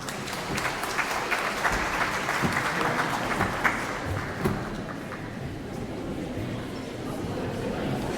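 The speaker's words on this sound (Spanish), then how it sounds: "Un fuerte aplauso, por favor." A crowd at a public dialogue forum on a 2025 popular consultation applauds loudly and steadily for the whole stretch, a continuous dense patter of many hands with no gaps.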